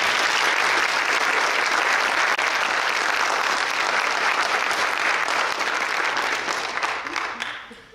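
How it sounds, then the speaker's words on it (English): Sustained loud applause from the audience at a high school Hall of Fame induction ceremony, a dense wash of many hands clapping continuously for eight seconds before beginning to fade at the very end. "How about another round of applause for them?"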